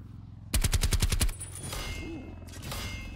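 A rapid burst of video game gunfire, about eight fast shots, rings out loud and close, then gives way to quieter game ambience.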